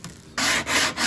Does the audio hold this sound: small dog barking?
no